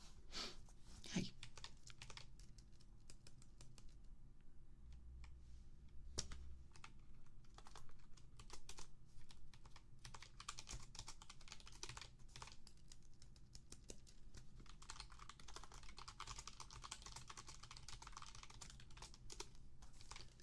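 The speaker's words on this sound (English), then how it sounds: "You're gonna hear some keyboard sounds." Typing on a computer keyboard: continuous, soft, rapid clicking of keys with irregular bursts and brief pauses, close and quiet throughout.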